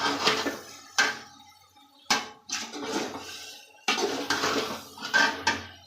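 A pot of freshly boiled macaroni pasta being stirred, with scraping spoon-on-metal strokes coming in a few separate bursts, close and clear with no one talking.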